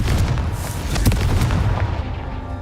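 A Confringo fire-blast spell in the Hogwarts Legacy video game hits with a loud, heavy booming explosion and rumbling, crackling debris that fades over a couple of seconds.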